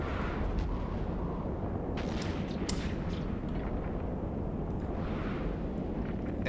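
Enemy ships fire in the space game EVE Online during a Guristas Huntmaster Outpost run, a continuous low rumbling barrage with a few sharper bursts partway through, moderately loud and with no speech.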